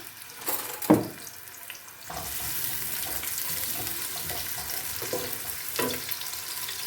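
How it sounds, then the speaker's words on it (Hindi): Onions drop into hot oil in a pressure cooker with a clatter, then a steady sizzle of frying continues close by, with occasional stirring scrapes. "अब इसमें हम प्याज डालकर गोल्डन ब्राउन होने तक हमने प्याज को फ्राई कर लेना है"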